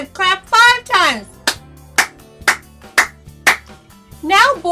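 Five sharp hand claps from children in an even, steady rhythm, close and loud, with sung voices before and after in a preschool counting song.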